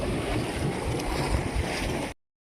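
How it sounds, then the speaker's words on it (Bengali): Water overflowing from a household water tank, a dense continuous rushing splash close to the microphone, cutting off abruptly after about two seconds. "ট্যাঙ্কিতে ওভার হয়ে গেছে জল"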